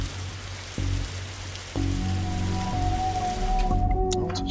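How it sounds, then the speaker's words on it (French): Steady rain falls in an adventure video game, a constant soft hiss with game music tones entering underneath and no voices, ending abruptly. "quand on aura marre de rester sous la pluie"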